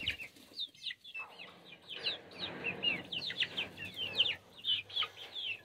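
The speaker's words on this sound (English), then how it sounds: "Watch the chickens." Free-range chickens cluck and chirp busily while feeding, a dense run of short, close calls overlapping one another with no talking.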